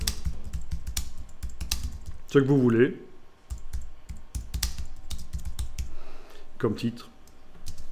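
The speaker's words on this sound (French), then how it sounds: "Vous enfoncez la grosse touche sur le clavier, la touche retour chariot, et vous tapez un titre." Typing on a computer keyboard, a run of light close clicks and taps, some in quick bursts and some spaced out, while someone talks in French in between.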